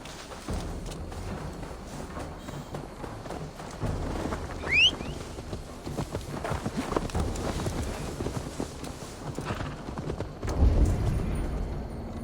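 A horse's hooves clop steadily at a walking pace in the video game Valhalla, moderately close, over a soft rustling ambient background, with a brief high squeak partway through.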